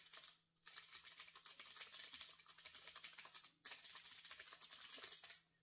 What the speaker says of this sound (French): c'est des switch brown. Donc, c'est des marrons. Ils font très peu de bruit.